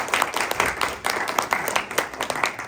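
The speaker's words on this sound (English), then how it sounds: "Guys, a round of applause." An audience claps for a startup founder coming up to give the first pitch at an open pitch session, with a dense, steady patter of many hands kept up through the whole stretch and no speaking over it.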